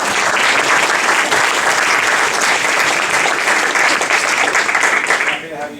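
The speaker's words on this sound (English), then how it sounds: "so please give a warm round of applause." A live audience at a San Francisco climate talk gives a warm round of applause, dense steady clapping filling the room for several seconds before it tapers off near the end.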